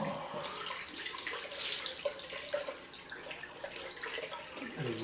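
Water running and splashing as it rinses a freshly shaved scalp, a steady close trickle with dripping, like a tap left flowing, continuing throughout with no talk.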